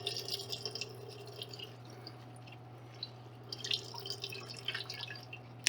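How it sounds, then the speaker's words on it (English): Washed food squeezed by hand to wring out the excess water, giving soft intermittent drips and trickles over a steady low hum, fairly quiet with no talking. "so after you wash it, you can kind of squeeze it, squeeze all the extra water out"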